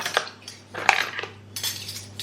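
Cutlery and dishes set into a dishwasher basket, a series of close metallic clinks and clatters in irregular bursts, with no talking.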